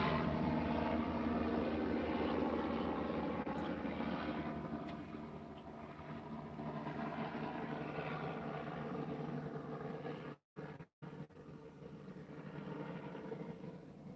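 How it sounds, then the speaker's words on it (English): A steady, droning helicopter engine overhead, loud and continuous, with a brief dropout partway through. "It's a really loud helicopter."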